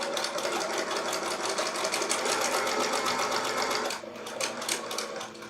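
A sewing machine stitches a quilt block seam with a fast, steady rattling whir close by, then slows near the end, with soft clicks as it stops.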